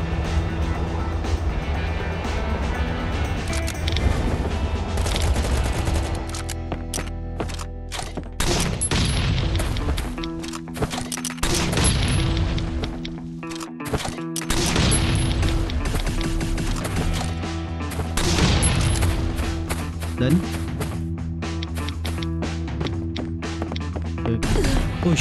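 Repeated heavy explosions and crashing impacts from C4 charges blasting a titanium wall in a survival video game, loud booming bursts recurring every few seconds over a dense, continuous rumble of game noise.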